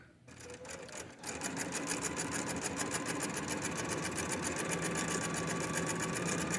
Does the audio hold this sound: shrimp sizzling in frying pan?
no